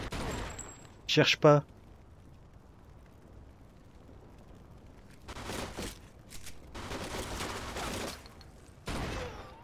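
Gunfire in the video game Mafia 2, heard as several loud bursts of shots and blasts spread across the scene with quieter stretches between them; someone talks briefly.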